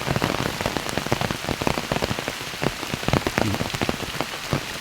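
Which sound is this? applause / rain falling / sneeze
rain falling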